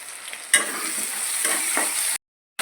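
Ground cumin, coriander and chilli powder sizzle in oil for spinach chicken, a close steady frying hiss with scraping stir strokes, ending abruptly.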